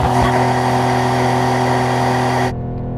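Porsche 911 engine revving hard and holding a loud, steady buzzing note, then the revs drop suddenly to a lower idle near the end.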